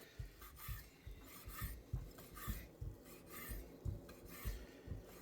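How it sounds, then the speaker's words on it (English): Knife chopping bacon strips into small pieces on a board for a Zuppa Toscana soup, quiet, close rhythmic cuts about twice a second with scraping between strokes. "We're just about done cutting down the bacon."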